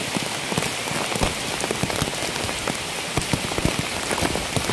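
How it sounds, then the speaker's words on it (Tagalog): Heavy rain pours steadily onto a hut shelter, a dense, continuous hiss with sharp drips and drumming close by, no voices. "lumakas na ang ulan"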